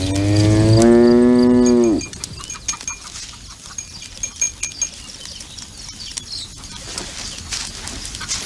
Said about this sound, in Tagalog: Bakit ka sinusundan ng kalabaw?